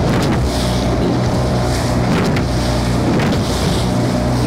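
Inboard engine of a Cardigan Bay coble used for lobster potting, running steadily at increased throttle with a loud continuous drone, plus heavy wind buffeting and water rushing past the hull.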